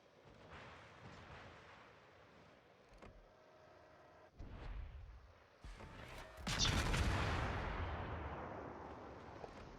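Naval guns fire during a World of Warships clan battle, a few heavy booms with creaking, mechanical game effects between them, building to a loud, sustained blast and rumble near the end.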